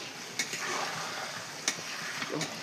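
Desi chicken pieces with ground spice paste and whole garlic sizzle and get stirred in a pan, a steady fry with a few sharp scraping clicks of the spoon, no talking.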